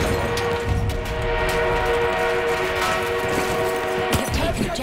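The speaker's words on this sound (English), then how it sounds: "We have an armored train." Armored train in Battlefield 1 multiplayer gameplay rumbles loudly and steadily with a sustained horn-like tonal drone, mixed with game noise and occasional muffled thuds.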